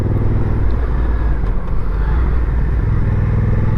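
A Honda NT1100 motorcycle engine drones steadily while riding, a loud, close, continuous low rumble with wind and road noise and no talking over it.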